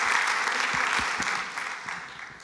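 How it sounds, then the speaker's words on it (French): Steady applause from an audience at a round-table discussion at the Louvre, dense and even throughout with no talking over it. "Big round of applause, un grand applaudissement pour Barbara."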